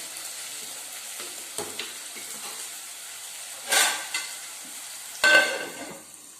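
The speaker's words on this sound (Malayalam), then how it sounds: "എന്നിട്ട് അടച്ച് വെച്ച് നമുക്ക് സവാള വഴറ്റിയെടുക്കാം." Sliced onions with salt sauté in a pan for a chicken curry, a soft low sizzle broken by a few louder scraping stirs and bursts of hissing.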